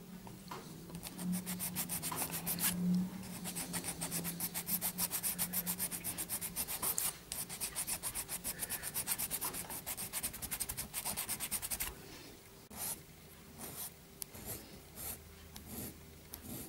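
Sanding a small plastic 1:35 scale figurine produces quiet, close rhythmic rubbing strokes that run steadily, then thin out into sparser scrapes near the end, with no talking.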